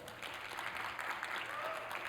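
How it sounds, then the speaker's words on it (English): An audience at a talk on spiritual fuel in visual art applauds, soft, steady clapping from many hands that sounds somewhat distant and fills the whole brief moment. "Applause for number 4"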